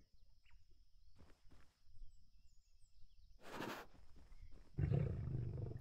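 A lion in the survival game Animalia Survival, standing at Pride Rock, lets out two friendly roars, a shorter one then a louder, fuller one, after soft footsteps in a quiet outdoor scene.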